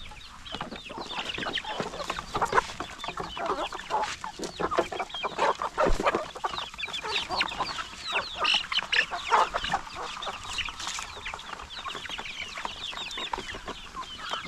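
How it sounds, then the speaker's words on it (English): Chickens feeding on starter crumbs mixed with crushed corn, pure-breed birds among young ones on an African chicken farm: dense, continuous clucking and chattering from a close flock, steady throughout with busy overlapping calls and pecking. "these chickens, the pure ones, are coming to feed on food meant for the young ones"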